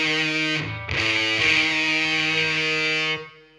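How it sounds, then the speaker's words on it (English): A heavily distorted electric guitar sounds a tritone interval in a metal style: a brief first attack, then the two notes ring out loud and sustained for about three seconds before fading. "we get a tritone"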